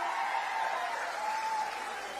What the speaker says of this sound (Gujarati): અમને પણ એકવાર તાળીઓથી વધાવીશું